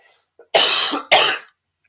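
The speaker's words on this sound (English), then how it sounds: "I'm going to have to cough." Two loud, harsh coughs from a man with a cold, close to the mic, one long burst followed by a shorter one, with silence around them.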